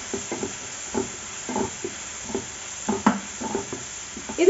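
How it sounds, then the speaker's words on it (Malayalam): A spoon stirs onions and turmeric sautéing in a pan for a garlic chicken curry, producing a series of short scraping, sizzling strokes in an uneven rhythm, close and moderately loud, with no voices. "എന്നിട്ട് ഒന്നും കൂടെ മിക്സ് ചെയ്ത് കൊടുക്കാം."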